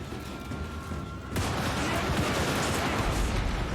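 Troops exchange gunfire in a video game battle. After a quieter opening stretch, dense, continuous volleys of shots and crackling fire break out abruptly and stay loud to the end.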